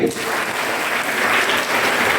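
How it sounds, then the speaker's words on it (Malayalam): Students at a school green assembly clap for their teachers in a steady, dense burst of applause that fills the hall evenly from start to finish. "അപ്പോ അധ്യാപകർക്ക് രണ്ടാമത്തെ കയ്യടി"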